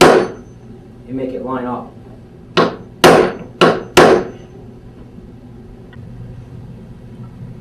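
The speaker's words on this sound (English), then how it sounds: "I'm actually going to take a block of wood, kind of sort of give this frame a tap" A block of wood knocked against the corner of a glued picture frame to seat the joints, four sharp close taps in quick succession after a brief spoken remark.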